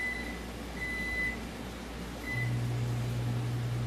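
A microwave oven warming rice hums steadily and close, with a low drone running throughout, a few short high beeps in the first half, and the hum growing louder near the end; no one talks.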